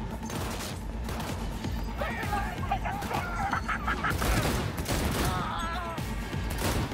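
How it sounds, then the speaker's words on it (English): Gunfire in the Cyberpunk 2077 video game: rapid bursts of shots crack out in close succession, with crashing impacts mixed in over a busy layer of game noise. "those shots did so much damage"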